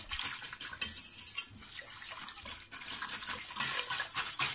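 A spoon or whisk scrapes and clinks steadily against a bowl while cornflour is stirred into cold liquid. The mixing is close, continuous and busy, with no voices.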